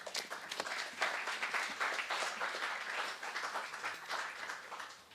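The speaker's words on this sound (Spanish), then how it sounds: "nuevamente lo recibimos con un fuerte aplauso" Audience applause at a lecture on Manzoni and Verdi, a few seconds of moderately loud, dense clapping from a seated crowd with irregular individual claps standing out.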